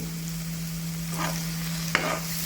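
Prawns frying in ghee with fresh curry leaves for a South Indian ghee roast, stirred in the pan: a steady soft sizzle with a couple of brief scraping stirs, close and alone.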